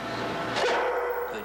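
A trained dog gives a single bark on cue on a Broadway stage set for Annie, one short, fairly loud woof rising over a steady background hum.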